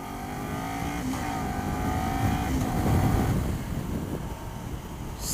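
A Kawasaki Ninja 400 motorcycle engine drones while riding, a sustained mid-pitched whine under heavy wind rush, rising briefly then easing as if shifting, no talking.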